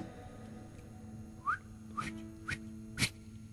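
A person whistles four short, sharp chirps at roughly half-second intervals, standing out over a constant low background hum.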